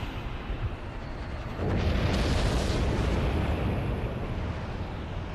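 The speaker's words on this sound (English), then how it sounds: "And we're about to launch some missiles." Missiles launch in the Halo: Reach game, a deep roaring whoosh that swells suddenly after a low rumble and holds steady, loud and alone.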